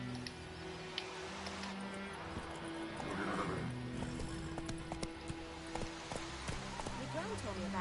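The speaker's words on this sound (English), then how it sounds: "Man, these horses need to calm down." Horses in The Witcher III neigh and whinny while hooves clop steadily along, with someone talking over the animal sounds throughout.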